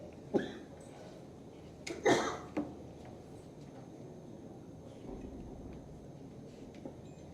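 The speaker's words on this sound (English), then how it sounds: "please excuse me, I've got a bad cough." A man with a bad cough coughs a few times at a university conference lecture, sharp bursts at the start and middle, over a quiet room hum.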